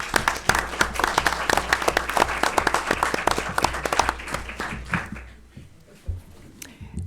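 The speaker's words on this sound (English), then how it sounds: "Let's give everyone another round of applause." Applause from an audience at a school district board meeting after employee-of-the-month presentations, dense steady clapping that thins out and fades near the end, with brief murmurs of voices.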